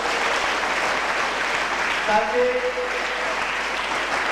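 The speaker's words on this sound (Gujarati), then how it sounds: "આપણે એમનું પહેલા તો તાળીઓના ગડગડાટથી સ્વાગત કરીએ." An audience claps to welcome a guest at a charity trust event, steady applause throughout with a voice speaking briefly over it.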